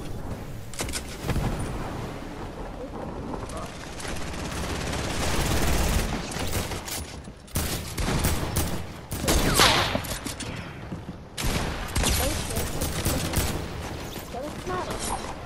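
Repeated bursts of automatic gunfire in a shooter video game, someone shooting in loud, rapid volleys with brief gaps, while a voice talks over the shots.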